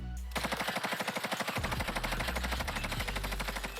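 A Bruen machine gun in a video game fires a long, steady burst of rapid automatic shots at a firing range about 30 meters from the target, loud and close with a dense, even rhythm and no talking.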